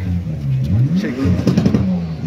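A Ford Mustang revs hard during a smoky burnout at a South African car show. Its engine surges close and loud in short bursts over crowd chatter.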